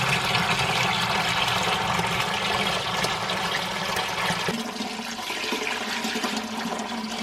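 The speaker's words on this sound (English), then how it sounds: "I'm just gonna pour it into the original fermentation bucket, which has been rinsed and sanitized." Homemade elderberry champagne poured through cheesecloth into a rinsed fermentation bucket, a steady loud rush of liquid that thins to a lighter trickle partway through.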